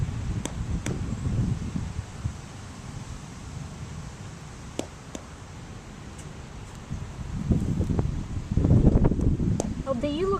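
Wind blows steadily on a windy outdoor day, a continuous breathy rush with low buffeting gusts that swell louder near the end, while a person talks intermittently over it.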